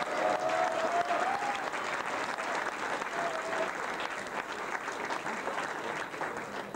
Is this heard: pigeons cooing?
no